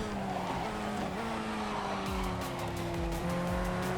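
A race car in the iRacing sim brakes hard into turn one at Lime Rock Park, engine droning loudly, then downshifting in short blips as the tires squeal and skid, with no talk.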